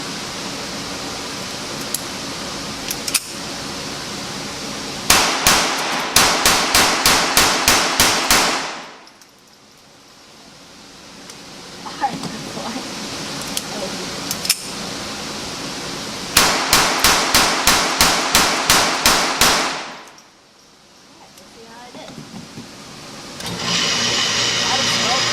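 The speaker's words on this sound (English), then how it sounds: "I'm going to be shooting 20 rounds through it, that's 2 mags" A Ruger SR22 pistol fires two rapid strings of about ten shots each, loud and close. Each volley has evenly spaced sharp cracks that end abruptly, followed by a quiet gap. Faint background noise runs between the strings.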